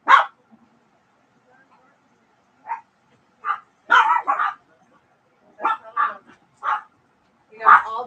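A dog barks and yips in short separate bursts, a few loud sharp barks spaced irregularly with quiet gaps between, fairly close in a quiet room.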